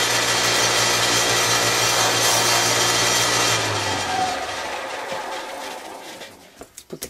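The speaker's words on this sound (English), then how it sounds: "that end is a little high, so we're going to just sand it real quick" A wooden banjo bridge is sanded by hand to lower one end, giving a steady, loud abrasive rubbing that runs for about four seconds and then thins into lighter, irregular scraping and a few taps.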